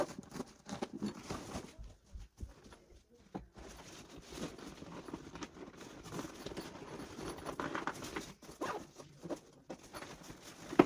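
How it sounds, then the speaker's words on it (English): Zips being pulled closed on an inflatable Safe Place bed, a quiet run of soft rasping zipper strokes and small fabric rustles, close by, with no talking. "And then close your zips"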